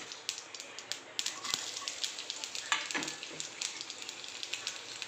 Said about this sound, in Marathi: तर फक्त मी लसूण घालणार आहे